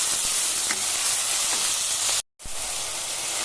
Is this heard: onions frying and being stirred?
yes